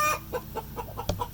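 Broody turkey in a coop giving a run of soft, rhythmic clucks, faint and close, with one sharper note near the end.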